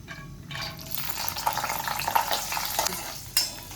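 Cashews frying in a kadhai of hot oil with two spoons of ghee, a steady soft sizzle with stirring scrapes and a few sharper clinks, close and moderately loud, with no talking.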